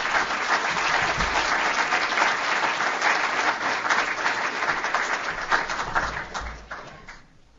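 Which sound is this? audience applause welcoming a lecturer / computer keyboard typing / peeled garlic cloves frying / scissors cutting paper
audience applause welcoming a lecturer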